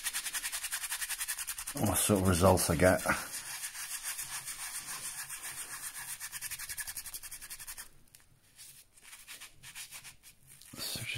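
A soft bristle toothbrush scrubs clay poker chips in quick, steady rubbing strokes, close and fairly quiet, with someone talking over part of it and a brief pause in the scrubbing.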